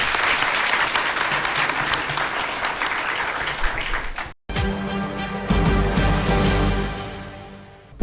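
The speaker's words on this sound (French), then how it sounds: "Est-ce que nous pouvons tous ensemble applaudir," A large audience at a youth council debate in Niamey bursts into sustained applause, loud and dense, briefly cut before continuing with music rising underneath and then fading.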